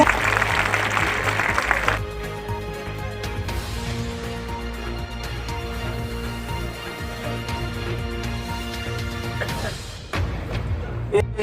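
Audience applause at a public program in a border area, a burst of clapping in the opening seconds that gives way to lingering room noise and scattered sounds.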